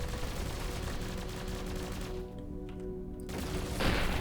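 Ship weapons fire in the space game Avorion, a dense run of rapid gunfire-like blasts and booms that stays loud throughout, briefly thinning midway before swelling again.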